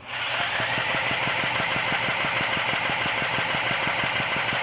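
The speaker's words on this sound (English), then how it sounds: "we're just going to use a drill and spin the engine" A generator engine is cranked over by an electric drill with fuel, choke and switch on, giving a steady, loud rhythmic chugging and whirring that runs continuously without catching or firing.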